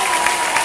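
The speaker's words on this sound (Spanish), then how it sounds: "Fuerte el aplauso para despedir a nuestra directora nacional ejecutiva" Loud audience applause fills a Mary Kay Peru corporate event hall, a dense steady wash of many hands clapping together.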